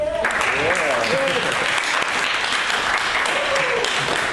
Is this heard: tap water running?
no